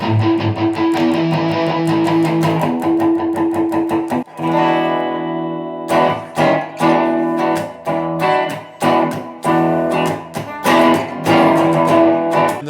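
Distorted electric guitar played through the overdrive effect of a guitar amp module built into a live PA speaker, loud sustained chords at first, then rhythmic chopped strums, with no talking.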